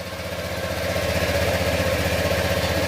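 A motorcycle engine with an ECU fault idles with a steady, rapid low putter and vibration, fairly close and even throughout, with no voices.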